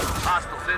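Brief burst of gunfire from the video game Tom Clancy's EndWar, several rapid cracks over a steady battlefield rumble, with a voice speaking alongside.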